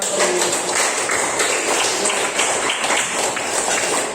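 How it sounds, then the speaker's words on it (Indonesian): Students in a classroom clap together in dense, steady applause that holds for a few seconds at fairly close range, with no voices above it. "Kita kasih aplaus dulu karena kalian"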